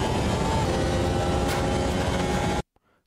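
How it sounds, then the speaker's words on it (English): Sim racing game car engine at speed with the suspension bottoming out and the brakes locking, a loud continuous engine roar with a short sharp jolt partway through, then cutting off abruptly to near silence. "There you hear me, the car bottom out a bit. And there you hear me locking the brakes a bit."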